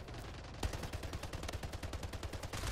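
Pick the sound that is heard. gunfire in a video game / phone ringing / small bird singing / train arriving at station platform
gunfire in a video game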